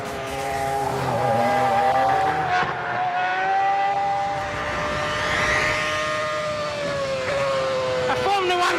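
Williams Toyota FW29 Formula One car at speed, a loud, continuous engine whine rising and falling in pitch with gear changes, heard close with a voice talking over it.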